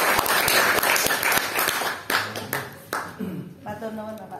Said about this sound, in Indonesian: Kita beri aplaus luar biasa